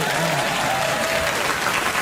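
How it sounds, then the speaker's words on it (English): Steady crowd applause fills the whole stretch, dense and continuous, with a faint voice or two murmuring underneath. "You can clap."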